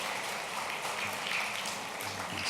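Church congregation clapping to welcome members at an Easter Sunday service, a steady wash of many hands heard from across the room, continuous and moderately loud for the whole stretch.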